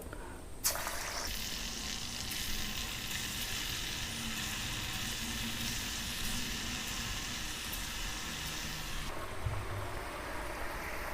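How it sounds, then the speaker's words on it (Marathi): Moong dal bhaji batter dropped into hot oil, setting off a sudden, steady hiss of deep frying that holds loud and close for several seconds before easing, with no talking. "ह्या मिश्रणाचे आपण छोटी छोटी भजी ह्या तेलामध्ये सोडणार आहोत"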